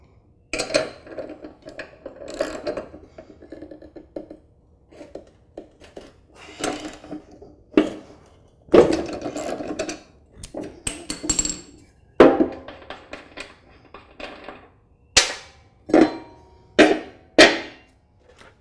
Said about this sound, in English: I'll use a piece of wood to block the blade so it can't rotate as I turn the spindle nut.